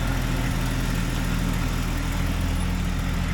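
The engine of a 1999 Jeep Cherokee under rebuild runs steadily during a shakedown drive, a continuous loud low rumble with even vibration and no voices.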